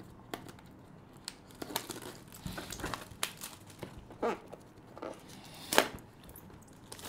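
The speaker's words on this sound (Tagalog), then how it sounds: "Tanggalin ko lang yung plastic niya." Crinkling and crumpling of plastic wrap being peeled off a new Infinix Smart 9 phone, coming in soft scattered bursts with a sharper crackle near the end, close and fairly quiet, with no talk.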